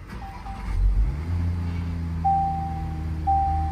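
A rare supercar in Dubai is started, its engine catching with a thump and settling into a deep steady idle nearby, while a high electronic tone chimes intermittently.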